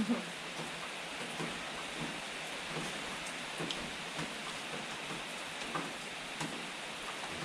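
Rain falls steadily in an outdoor rural setting, a continuous soft hiss with scattered droplet taps throughout and no talk.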